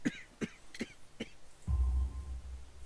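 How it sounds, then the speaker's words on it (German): A character in the detective game Sherlock Holmes: The Devil's Daughter coughs four times in short, evenly spaced bursts, followed by a low rumbling background sound. "Ihr Husten klingt nicht gut."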